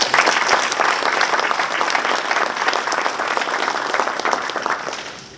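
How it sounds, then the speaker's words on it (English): Dense, steady applause from an audience at a regional bioscience launch event, sustained and fairly loud for several seconds before tapering slightly at the end. "let's give them all a round of applause"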